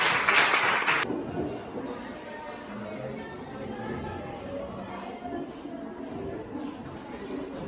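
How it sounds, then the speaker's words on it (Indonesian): Classroom students applauding group 4 after a presentation: a brief loud burst of clapping at the start, then fading into a murmur of chatter and movement. "Kita beri tepuk tangan untuk kelompok 4"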